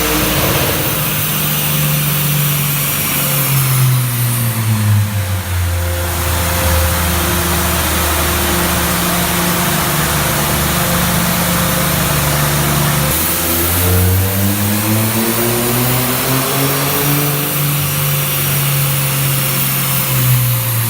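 A Ford engine in a 2015 3.5 F150 or a 2.3 Mustang revs hard on a dyno, climbing in pitch through the gears, dropping back, then winding up again in a second loud, sustained pull.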